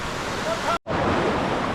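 Sawat Kada waterfall at Murud Janjira roars as a loud, steady wash of falling water, broken by a short dropout partway through.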